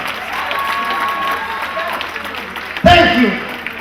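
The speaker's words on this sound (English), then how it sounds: "Give him a round of applause, please." Applause at an induction ceremony in Los Angeles, a fairly soft crowd clapping with voices and a steady tone beneath, then a sudden louder burst of sound near the end.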